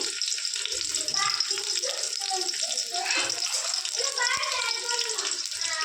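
Ginger, garlic and chunky tomato pieces fry in a pan over a medium gas flame for a crab curry, giving a steady sizzling hiss beneath a person speaking.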